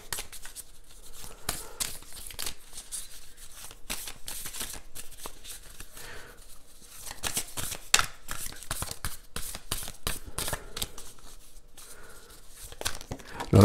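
Cards shuffled and drawn for a tarot-style reading, a close-up run of quick papery riffles, slaps and flicks in irregular bursts, with no speech.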